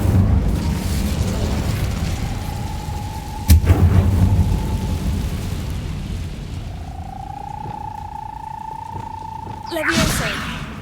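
A fire spell cast in the video game Hogwarts Legacy: a sharp burst of flame lands around 3.5 seconds and a second whooshing blast near 10 seconds. Both sit over a steady game ambience and drawn-out magical tones.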